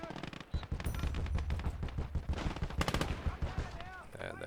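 Machine gun fire crackles in the World War II strategy game Call to Arms: Gates of Hell, with rapid, overlapping bursts and scattered single shots forming a dense, continuous battle din.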